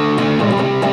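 Dense, sustained distorted electric guitar chord through a Peavey 6505 Plus amp with resonance at maximum, loud and boomy with heavy low end for about a second.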